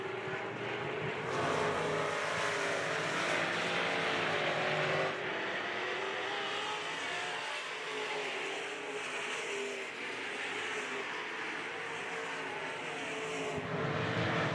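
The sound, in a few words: IMCA modified race cars racing on a speedway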